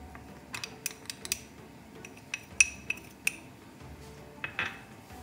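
A small spoon clinking against containers while spices are measured: a scattered series of sharp, light metallic taps and chinks, close and fairly quiet, with irregular gaps between them.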